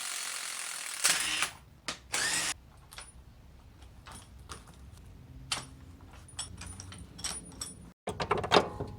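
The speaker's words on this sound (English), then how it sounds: "Okay, we're ready to uncompress that spring." Metallic clicks, ratcheting and clanks sound up close as a spring compressor is released from a front shock spring on a 2005 Acura TSX, with short bursts of tool noise between quieter gaps.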